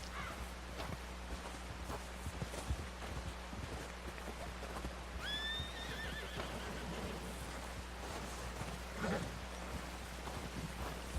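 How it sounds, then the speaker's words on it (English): In the Red Dead Redemption II video game, a horse gives a clear whinny midway while hooves clip-clop closer over a steady outdoor ambience with light rain. "Será que meu cavalo vai vir aqui? Tá vindo já."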